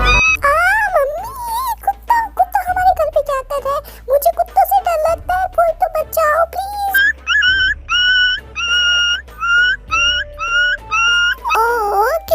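Dog whimpers and yips in a long run of high, wavering whines and short repeated squeals, loud and close, broken by brief pauses.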